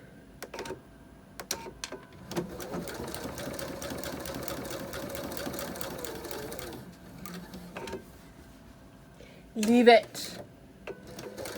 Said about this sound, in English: I'm just going to stitch over it and then back stitch across it